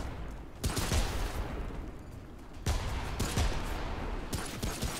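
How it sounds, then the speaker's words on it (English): Landmine blasts from the video game Remnant, two heavy booming explosions a couple of seconds apart, each followed by a rumbling tail under scattered gunfire-like crackle. "Oh, one of them stepped on the mine. Oh yeah, they're stepping on them."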